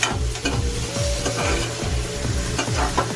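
Onions frying in a pan, a dense continuous sizzle with steady stirring strokes repeating throughout, loud and close with no voices.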